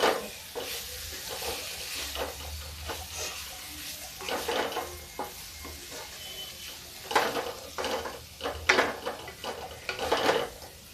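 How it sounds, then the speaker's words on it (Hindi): Tomatoes go into a dry vegetable curry cooking in a pan, with a low sizzle under repeated scraping and stirring strokes of a spoon against the pan in irregular bursts, all close by and with no talking. "अब इसमें हम डालेंगे ये टमाटर ऊपर से"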